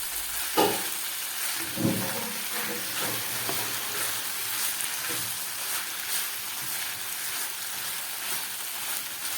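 Tomato fries in a hot pan with a continuous loud sizzle while a spoon stirs it, giving a few distinct scraping knocks early and softer sweeps after.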